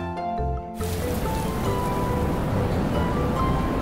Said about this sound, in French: La pluie.